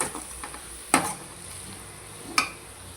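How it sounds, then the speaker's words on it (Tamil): Salted tomatoes soften in a pan over a faint, low sizzle, broken by two distinct stirring scrapes of a spoon, heard up close with no voices. "தக்காளி நல்லா வதங்கிடுச்சு கைஸ்"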